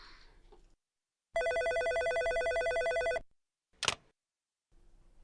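A telephone rings in one sustained electronic trill lasting about two seconds, followed by a sharp click, with quiet room tone around it and no talking.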